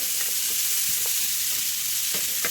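Sweet potatoes stir-fry in a pan, giving a constant bright sizzle, with a few soft scrapes and taps from the utensil turning the pieces through the short stretch.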